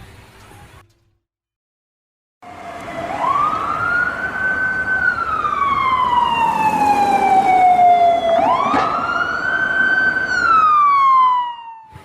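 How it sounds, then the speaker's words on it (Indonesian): After a short silence, a loud siren wails up and down in long sweeping tones, with a second rising cycle before it cuts off. "itu adalah bunyi ambulans"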